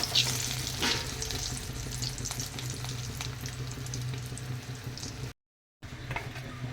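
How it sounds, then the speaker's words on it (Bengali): Eggplant slices fry in a pan with a dense, steady sizzle and bubbling crackle close by, stirred now and then, cutting out abruptly near the end before resuming. "তো দেখো আর হচ্ছে তোমার বেগুন ভাজা"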